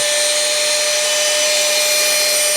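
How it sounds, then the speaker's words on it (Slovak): A small USB-powered handheld vacuum cleaner, a salon-style vacuum blower, runs steadily and close with a constant whine, with no voices. "Vyzerá ako skôr taký nejaký, by som povedal, kadernícky vysávač, vysávač fukár."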